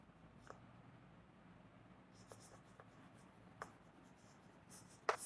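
Chalk or marker scratches across a board in a classroom lecture, a few brief quiet strokes over low room hum, ending in a sharper, louder stroke.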